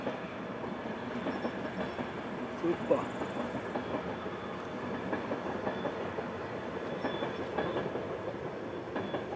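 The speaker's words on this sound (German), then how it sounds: "Und das ist sogar ein schöner Zug." A train on the Semmering railway in Austria passes at moderate distance with a steady, fairly faint rumble and wheel clatter, while someone briefly speaks.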